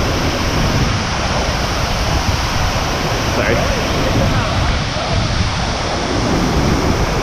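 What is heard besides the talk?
large waterfall on Thailand's highest mountain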